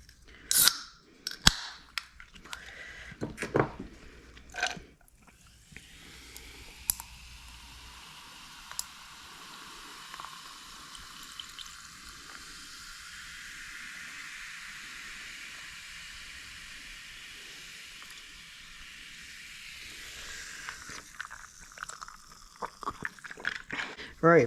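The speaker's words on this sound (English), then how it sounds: "Pouring up some Canada Dry." Canada Dry ginger ale poured into a glass: a long, steady fizzing hiss of carbonation after a few sharp clicks and knocks from the can and glass, close and clear, with bubbles crackling on as the pour ends.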